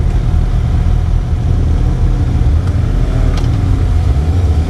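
A 2018 Suzuki GSX-S750 motorcycle pulls away in first gear as the clutch is released, with a steady, loud, close engine drone and low rumble throughout.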